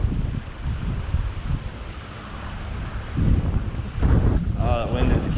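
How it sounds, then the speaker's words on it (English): Gusty wind buffets the microphone beside the Paulinskill River in New Jersey during April fly fishing, a constant rumbling roar that swells louder toward the end, with a faint voice briefly audible. "Oh, that wind is hard."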